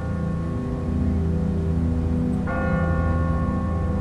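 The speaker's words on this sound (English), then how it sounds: "Ask not for whom the bell tolls." Church bell tolling from a tower in The Walking Dead video game, sustained ringing tones with a fresh strike halfway through that renews the bright, lingering resonance.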